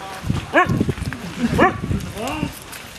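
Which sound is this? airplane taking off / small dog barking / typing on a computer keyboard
small dog barking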